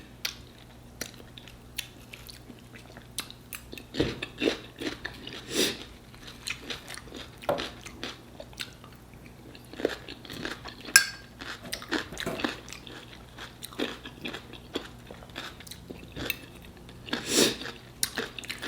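Someone eats homemade chicken tetrazzini, with close, moist chewing and soft crunches alongside occasional clinks of cutlery against a dish, irregular and unhurried, and no talking.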